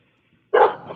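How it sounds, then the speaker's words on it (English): A dog barks once, loud and close, from indoors in a home, a single sharp woof that trails off quickly after a moment of near silence. "You hear Sis barking in the background."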